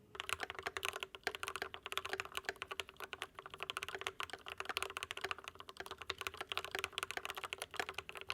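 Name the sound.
custom mechanical keyboard typing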